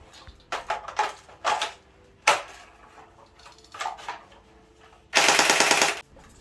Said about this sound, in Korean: 격발도 한번 해보고 장전 손잡이도 조작해 봅니다.